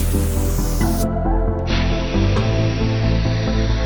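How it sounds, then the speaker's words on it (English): A steady hiss of spray painting colour over primer on Yamaha R6 motorcycle parts, continuous and fairly loud, with a few shifts in tone as the spray pauses and resumes. "so we can spray the colour"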